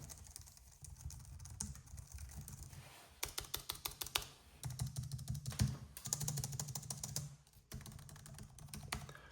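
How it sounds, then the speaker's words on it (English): Rapid, aggressive typing on a Logitech MX Keys keyboard, bursts of quick clicky keystrokes with short pauses between, close but fairly quiet. "So that's me typing pretty aggressive on this."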